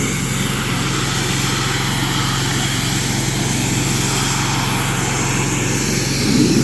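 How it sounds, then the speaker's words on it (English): A pressure washer power-rinses a roof after a soft wash, its motor droning loud and constant with a hissing spray layered on top, steady and close throughout. "we're just doing a good power rinse to get all the crud off"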